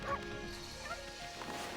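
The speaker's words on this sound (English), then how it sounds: "Dog. Dog." Cartoonish dog barking from the video game Okami, a few short yips and woofs over a soft game soundtrack, fairly quiet.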